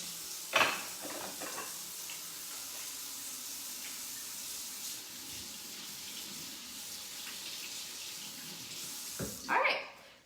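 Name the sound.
washing hands under running tap water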